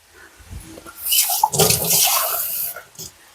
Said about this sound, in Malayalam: ഈ ഗ്ലാസ്സിന് മുക്കാൽ ഗ്ലാസ് വെള്ളം ഒഴിക്കുക